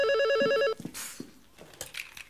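Telephone ringing indoors in a French TV sitcom scene, a loud electronic warbling ring that cuts off after under a second, followed by quieter rustles and brief sounds.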